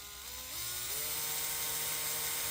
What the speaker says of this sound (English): then go the other direction and start drilling it